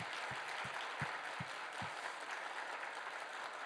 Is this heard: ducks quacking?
no